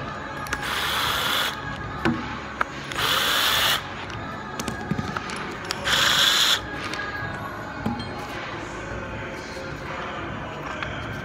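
Three bursts of power-tool whirring, each lasting under a second, as 15 mm bolts come off the sector input housing of a Delphi steering box from a WJ, with metallic shop clatter between them.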